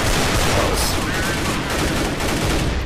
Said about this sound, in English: That was actually a pretty fun shotgun